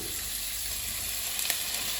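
Chicken thigh sizzles and crackles steadily in hot oil for chow mein, a close, continuous frying hiss with a small clink near the end.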